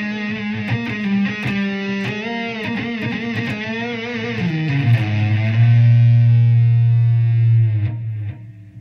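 A Zemaitis electric guitar on the neck pickup through a 50-watt Marshall amp with heavy saturated distortion plays a quick run of notes, then a thick low chord rings out and sustains loudly before fading.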